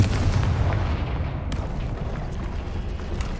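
Confringo spell explosions in the video game Hogwarts Legacy, a dense, sustained rumbling barrage of booms and crackling blasts, loud and continuous with a sharp burst partway through.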